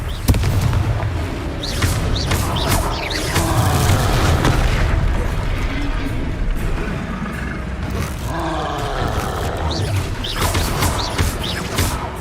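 Repeated Confringo fire-blast spells in the Hogwarts Legacy game: heavy booming explosions and roaring impacts in a dense, continuous battle din with creature grunts, loud and close throughout.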